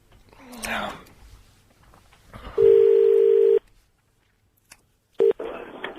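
A telephone line makes a steady, loud call tone for about a second, then goes silent before a short beep and a burst of line noise as a call is redialed. Faint voices come before the tones.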